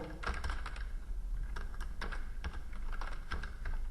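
Light, quick keystrokes on a computer keyboard as a short command is typed, irregular taps close and fairly quiet with no talk over them.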